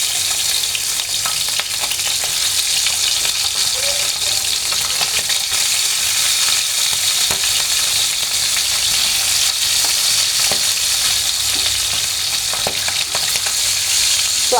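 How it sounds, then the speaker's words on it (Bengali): Tangra fish sizzle steadily in hot mustard oil in a large frying pan, a loud, continuous crackling fry close up with occasional spatters and no voices. "সরষের তেলটা দিয়ে ভেজে নিলে একদম সুন্দর একটা ফ্লেভার আসে"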